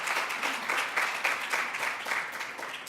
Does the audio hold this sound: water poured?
no